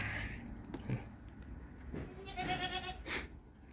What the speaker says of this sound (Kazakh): Мынау жаңадан туған ешкінің лақтары мынау.